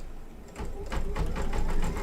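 Embroidery machine stitching out the final color of an embroidered holiday card design, its needle running in a rapid, steady mechanical chatter that gets louder after a brief quieter start.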